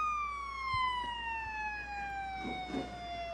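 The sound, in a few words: horn sounded at speedway race restart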